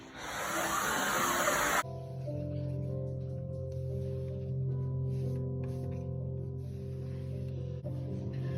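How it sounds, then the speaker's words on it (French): A vacuum cleaner whirs steadily and close by on a wooden floor, its motor holding a constant droning hum after a brief burst of hissing noise at the start. "Un dernier coup d'aspirateur avant le vernis."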